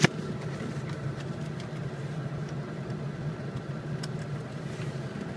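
A 2000 Ford F350 diesel 4x4 crew cab idles after being shifted into two-wheel drive, giving a steady low rumble heard close up that stays even for a few seconds, with no one talking.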